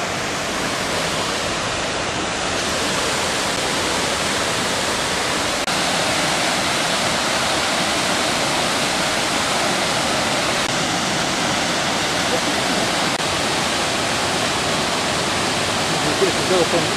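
A river runs with a steady, full rushing roar, broadband and unbroken throughout, heard close with no distinct voices over it.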